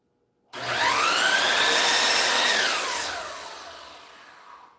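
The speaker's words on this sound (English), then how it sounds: "Then we just sand the end." A powered sander whirs against the end of a wooden piece in a workshop, one steady droning pass that swells and then slowly tapers off, loud and close.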